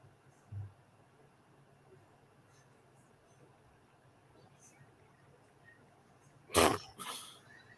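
A single sharp sneeze bursts out after a quiet stretch, followed by a smaller second burst; a faint thump comes early on.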